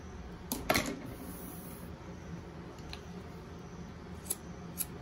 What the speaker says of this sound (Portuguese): vou cortar esse excesso aqui.